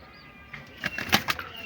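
Pigeons at a loft, a quick cluster of wing flaps and fluttering with faint cooing, close and moderately loud after a quiet start, no talk.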